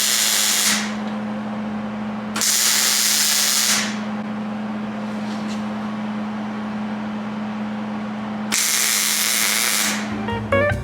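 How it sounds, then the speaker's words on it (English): Welding on a custom bedside for a 1996 Ford F-250, with steady broadband crackling arc bursts of a few seconds each separated by pauses, over a constant low electrical hum, close and moderately loud. "Now she should weld."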